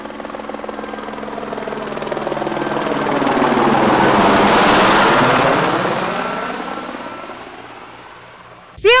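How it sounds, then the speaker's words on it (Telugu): A helicopter carrying a state chief minister flies overhead, its rotor thump swelling to a loud peak as it passes and fading away, with traffic halted below. "పైన హెలికాప్టర్ లో సీఎం వెళ్తుంటే కింద ట్రాఫిక్ ఎందుకు ఆపారండి?"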